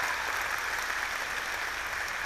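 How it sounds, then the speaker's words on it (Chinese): Audience applause in a lecture hall, a steady even wash of clapping held at one level throughout, with no voices over it. "掌声鼓励。"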